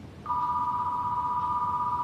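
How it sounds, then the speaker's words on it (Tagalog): A telephone rings with a steady electronic two-tone trill that starts a quarter second in and carries on unbroken to the end, clear over faint room noise. "nasa linya ng telepono si Carlo"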